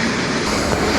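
A train rolls along rails through open desert country, a steady, loud, close rumble with rattling wheel noise filling the whole moment and no voices.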